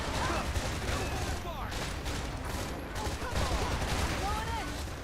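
Rockets and gunfire in the video game Freedom Wars: a dense, continuous barrage of bursts and explosions with whistling streaks cutting through, loud throughout a chaotic battle.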